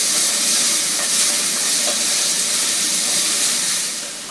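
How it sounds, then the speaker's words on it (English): Onion sautéing in a pot, a steady loud sizzling hiss that runs throughout and tapers off slightly at the end, with no talking. "So I've got my onion sauteing in the pot"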